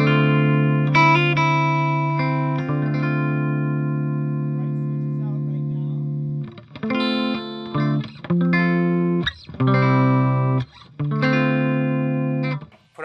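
A clean electric guitar played through a Fender Twin amp on its clean channel into a Marshall cabinet with Vintage 30 and Greenback speakers: a long sustained chord rings out, then a run of crisp, separate notes and chords.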